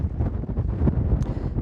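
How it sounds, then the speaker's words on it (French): Strong gusting wind buffets a homemade microphone outdoors among coastal dunes, a continuous loud low rumble with fluctuating gusts throughout. "Mais il y a un vent vraiment à décorner les bœufs."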